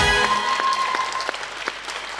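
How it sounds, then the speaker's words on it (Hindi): Studio audience clapping on a talk show, a moderate burst of applause that gradually thins out, with a faint tone lingering in the background. "तो शर्मिला के लिए तालियां।"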